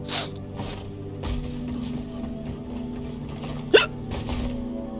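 A person hiccups a few times, short sharp catches against a steady mechanical hum of game audio, with one louder, clearer hiccup near the end.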